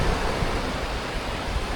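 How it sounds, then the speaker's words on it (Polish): Sea surf rolls onto the beach at Chłopy on the Polish Baltic coast, a steady broadband wash with wind noise, loud and continuous, no voices. "Znajdujemy się na plaży w Chłopach"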